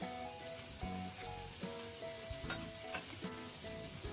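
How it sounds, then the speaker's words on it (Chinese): Green peppers and minced garlic sizzle steadily in a hot pan while being stirred, with a continuous close frying hiss broken by scraping stir strokes and no talking. "一直煎到青椒有一些变色变软，再放入蒜末"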